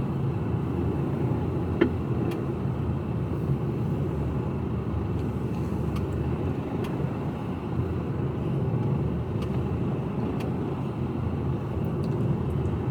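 Heavy continuous traffic noise surrounds a Mercedes Actros HGV container truck driving in the UK, a constant low rumble from inside the cab with a few faint clicks and no voices.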